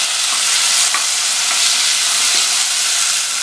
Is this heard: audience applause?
no